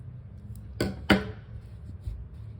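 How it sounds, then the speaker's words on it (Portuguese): Scissors snip crochet yarn while a bag is being made, two quick, crisp cuts close by against a quiet room hum, with no voice. "Agora, eu vou cortar aqui esse fio."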